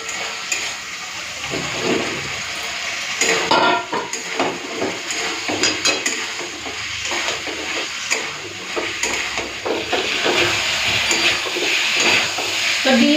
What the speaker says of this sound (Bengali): তো মশলাটা তো ভালো মতো কষা হয়ে গেছে এখন আমি ভেজে রাখা ডিম আর আলুটা দিয়ে দিই